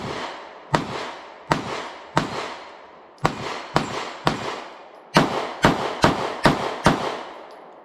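Shots from a Smith & Wesson Model 469 9mm pistol at a shooting range, about a dozen sharp, loud reports, some well spaced and others in quick runs, each trailing off in a brief echo.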